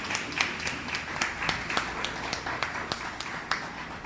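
An audience at the launch of a community care programme in Tobago claps, producing a dense patter of hand claps with sharper individual slaps standing out, moderately close and continuous.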